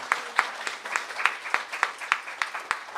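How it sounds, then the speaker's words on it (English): A church congregation gives a round of applause for its practitioners: a small group clapping at a steady, fairly even pace, moderately close and on its own without talk. "let's give our practitioners a round of applause"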